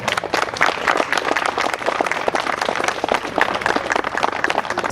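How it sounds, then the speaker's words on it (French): Sustained, dense applause from an audience honouring the builder of a restored Yamaha XS motorcycle, loud and steady throughout with rapid overlapping claps. "vous pouvez l'applaudir très très fort"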